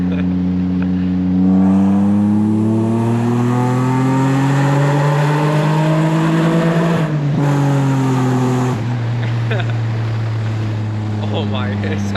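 A Dodge Stealth R/T with a full performance exhaust revs loudly up close, its engine note climbing to a peak, dropping sharply, then settling into a deep, steady drone.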